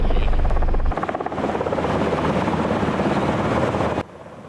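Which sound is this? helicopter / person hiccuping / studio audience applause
helicopter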